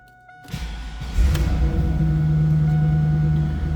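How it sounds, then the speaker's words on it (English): A 2002 Pontiac Trans Am Collectors Edition V8 cranks briefly after a click, catches and settles into a loud, steady, close idle with a deep low rumble that stays constant to the end. "I'm going to start it up, let you hear it run."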